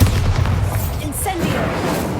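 A Bombarda blasting spell exploding in the Hogwarts Legacy video game, a deep booming blast with rumbling low end and a brief bright magical shimmer, heard amid game sound and voices.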